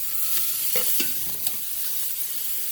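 Thick turkey burgers fry in hot oil in a pan, a continuous bright sizzle with a few soft scrapes and pops as they settle, close and loud, with no talking.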